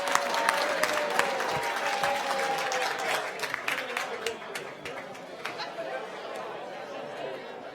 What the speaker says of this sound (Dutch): En daarbij nog een heel groot applaus voor de RTV NOF.